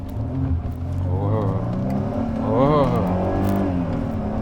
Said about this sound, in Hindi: इस गाड़ी की एक्सेलरेशन बड़े मजे की है,